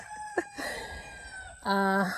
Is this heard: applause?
no